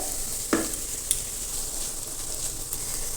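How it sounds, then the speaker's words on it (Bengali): Onion and garlic fry at one side of a pan beside softening onion greens, a soft steady sizzle broken by a couple of sharp utensil clicks. "এক সাইডে আমি পেঁয়াজ আর রসুনটা ভাজতে থাকবো"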